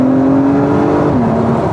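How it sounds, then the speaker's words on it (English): An Acura TLX Type S with its V6 engine accelerates, giving a steady, close engine drone whose tone holds and then drops slightly as it pulls, heard alone without talk. "this vehicle has amazing power from the V6 engine under the hood"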